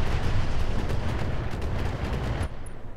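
Mech rockets firing in Roguetech, the BattleTech mod, a dense continuous volley of rapid rumbling blasts, loud and close, that eases off near the end.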